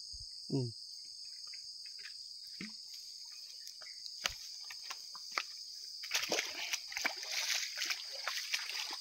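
Footsteps wade through a shallow countryside stream, with soft splashes and sloshing that grow busier toward the end, all over a steady chorus of crickets.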